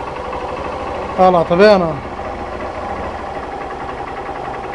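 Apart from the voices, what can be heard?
Honda CG 125 Fan motorcycle engine idling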